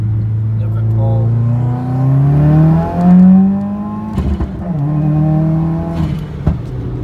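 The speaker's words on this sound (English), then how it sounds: "So that is what a stage 2, like second into third gear pull looks like" A stage 2 2015 Subaru WRX pulls hard through second into third gear, the engine revving up loud and close, dipping at the shift, then climbing again.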